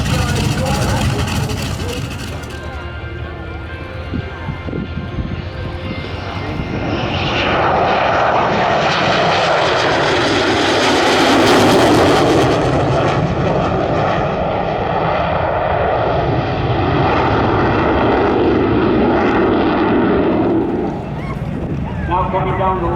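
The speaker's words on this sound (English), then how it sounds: "Now coming down the line are C-47" Propeller engines of C-47 military aircraft drone loudly as the planes come down the line at an airshow, the roar swelling and fading over a long stretch.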